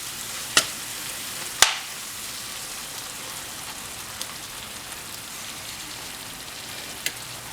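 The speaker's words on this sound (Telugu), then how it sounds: "కారం గరం మసాలా పచ్చివాసన పోయేంత వరకు కొద్దిగా కలుపుకోవాలి" Chili powder and garam masala being stirred in a pan, a steady soft scraping hiss running throughout with two sharp clicks near the start and a few fainter knocks later, no voices.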